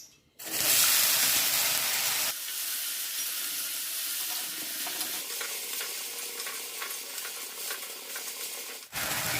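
Small diced potatoes drop into hot ghee in a pan for sabudana khichdi, bursting into a loud, bright sizzle that settles into a steady frying hiss with faint stirring scrapes.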